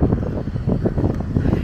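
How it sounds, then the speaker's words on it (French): Wind gusting across the microphone at a beach by a mangrove in Taipei, a loud, continuous low rumble and buffet with no voices. "Ah bah là, il y a du vent, ça fait plaisir."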